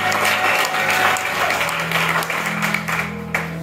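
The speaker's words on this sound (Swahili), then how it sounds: "Pokea Yesu makofi." Steady applause from a church congregation, a continuous wash of clapping that holds at a fairly even level for several seconds.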